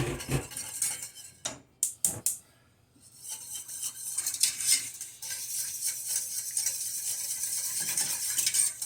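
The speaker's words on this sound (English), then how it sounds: "Give it a real good whisk. Gotta break up all those lumps from our roux in there." Whisk scraping and clinking in a pan as roux and broth are worked into brown gravy, with busy metallic strokes, a short quiet gap, then steady stirring with a light sizzle close by.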